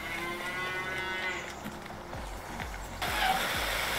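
Cattle moo in the Farming Simulator 19 video game: a drawn-out lowing call at the start, followed by a series of dull mechanical thumps and a steady background hum.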